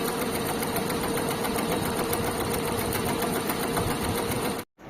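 A computer embroidery machine stitches pink thread in a fast, even mechanical rattle that runs steadily throughout, then cuts off abruptly at the very end.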